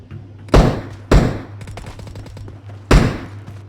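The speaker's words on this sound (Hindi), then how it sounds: "इतने में पीछे की तरफ से फायर होता है" Three loud, close gunshots ring out in PUBG Mobile, fired from behind the player, each a hard blast with a short decaying tail, spaced unevenly over a few seconds.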